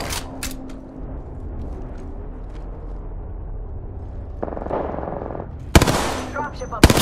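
Machine-gun fire in Apex Legends, quiet ambience first, then a rattling burst of automatic fire followed by loud, close single shots near the end.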